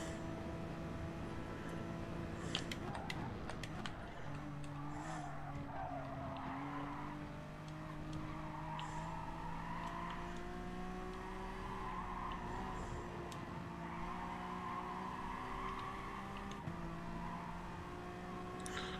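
A Honda NSX race car in a racing video game holds a continuous engine drone with long stretches of tire squeal as it corners, steady and fairly quiet throughout.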